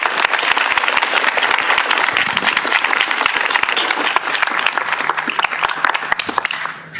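A conference audience applauds to welcome the keynote speaker, Dr. Andrew Solomon: steady, loud, dense clapping from a large crowd that holds evenly for several seconds, then starts to fade at the end.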